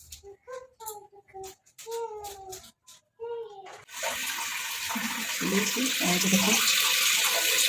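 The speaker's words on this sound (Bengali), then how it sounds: "মেথি শাক বেছে নিয়েছি কালকে ছাদের উপর যে মটরশুঁটি আর শাকটাও বেছে নিয়েছি একসঙ্গেই এটা এখন ধুয়ে নিলাম।" Running water pouring over fenugreek greens in a large bowl, a steady loud tap-like rush that follows a stretch of talking and keeps building.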